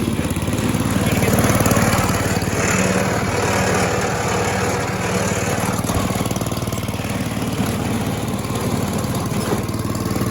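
An Ariens 11528 snow thrower engine runs steadily with the auger engaged, a loud, close, continuous mechanical drone with no talk over it.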